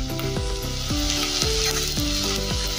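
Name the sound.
cumin powder sizzling in pan for Mexican rice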